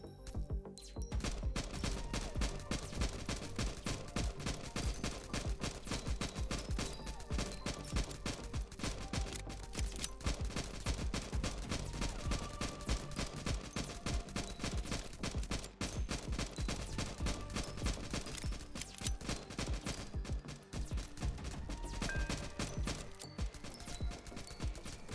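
Rapid, nonstop gunfire in the NIMRODS: GunCraft Survivor demo, a relentless dense stream of quick shots at steady loudness for the whole stretch, with no talk over it.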